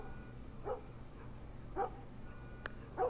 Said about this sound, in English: Y'all heard that dog?